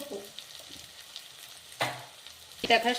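Masala for an okra gravy fries in a pan with a faint, steady sizzle, broken by a few sharp scraping stirs and one louder burst of spatter near the end.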